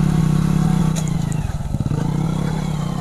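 A nearby motorcycle ridden by a learner in second gear drones steadily, its engine pitch wavering briefly as throttle eases and picks back up, with faint voices underneath.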